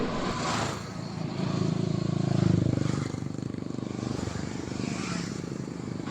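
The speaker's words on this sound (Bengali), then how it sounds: "এতগুলো বাইক যখন একসাথে পরপর লাইন দিয়ে ছুটে চলে" Several motorcycle engines drone together at steady speed as the bikes ride in a line, a loud continuous roar that swells midway and then settles, with no voices.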